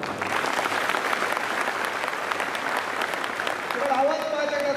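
A hall full of women clap together at a lecture, a dense, steady patter of many hands held for several seconds, with a voice rising over the fading claps at the end.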